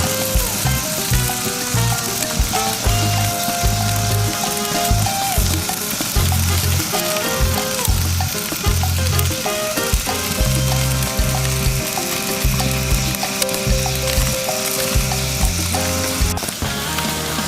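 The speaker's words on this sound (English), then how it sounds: "You throw it on the grill side and get it that nice" Smoked chicken sizzles loudly on the grill side of a trailer-mounted cooker, a steady dense crackle and hiss with heavy low rumbling throughout, no voices.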